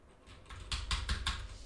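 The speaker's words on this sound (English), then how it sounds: "My keyboard's not working." Fast typing on a computer keyboard at a day-trading desk, a short burst of close, crisp key clicks building in loudness over a faint background.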